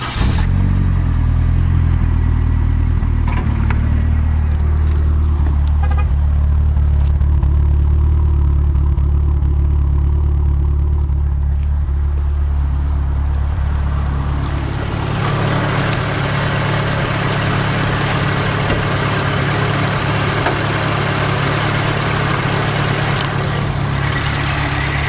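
A 1985 Chrysler LeBaron Turbo coupe with 77,000 original miles, fitted with a new TPS sensor and K&N air filter, cranks briefly and catches, then settles into a loud, steady close-up idle that continues unbroken with no talking.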